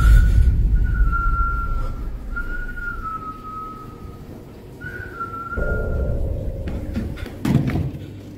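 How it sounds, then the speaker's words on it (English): Tuneful whistling at night in a living room, three drawn-out phrases carried over a low hum, followed by a few dull thumps and knocks near the end, with no talk. "In the middle of the night, whistling can be heard in the living room."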